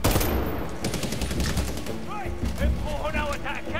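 Rapid bursts of automatic gunfire crack loudly and close in the Medal of Honor Warfighter video game, overlapped by shouting voices and in-game chatter, with shots peppering the whole few seconds.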